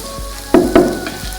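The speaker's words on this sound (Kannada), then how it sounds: "ಆನಿಯನ್ ಟ್ರಾನ್ಸ್ಲೂಸೆಂಟ್ ಬರೋವರೆಗೂ ಫ್ರೈ ಮಾಡ್ಕೊಬೇಕು. ಇದು ಕಾನ್ಸ್ಟೆಂಟಾಗಿ ಸ್ಟರ್ ಮಾಡ್ತಾ ಇರಬೇಕು" Onions sizzling in a hot pan while being stirred for biryani, a steady frying hiss broken by two loud scraping stirs of the spatula close up.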